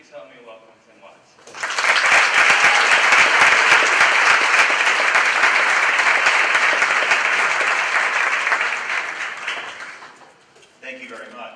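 An audience at a college lecture bursts into sustained, loud applause welcoming the speaker, swelling quickly, holding for about eight seconds, then fading, with a voice speaking briefly before and after.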